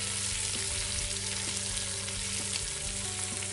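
Sliced Vidalia onions sizzle in a Dutch oven, giving a loud, steady, continuous frying hiss with no pauses.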